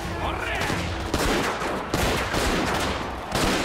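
Heavy, sustained gunfire crackles through a shootout in the video game Yakuza 0, dense volleys with sharp bursts layered on top and a voice faintly underneath.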